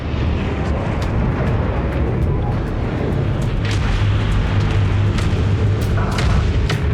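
A spaceship explodes in space combat in the Homeworld 3 video game as an enemy carrier is destroyed. Loud, dense rumbling blasts roll on continuously, with sharper bursts breaking through the low roar.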